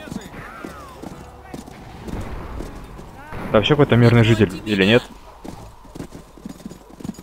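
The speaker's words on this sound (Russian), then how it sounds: "какая-то лошадка" Horse hooves clip-clop in the Call of Juarez: Bound in Blood video game, a rhythmic trotting beneath a voice, with a louder burst of tonal game sound and neighing in the middle before the hoofbeats carry on.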